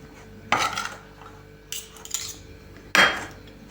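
Soft butter and cheese are worked together in a bowl, giving three brief scraping, clinking strokes of a utensil against the dish, close and fairly quiet, with short pauses between them.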